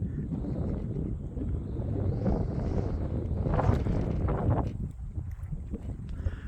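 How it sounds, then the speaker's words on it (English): Wind blowing steadily outdoors at a high country lake during an evening fishing trip: a loud, continuous rumbling roar buffeting the microphone, swelling in gusts, with no talking. "now that wind's coming up"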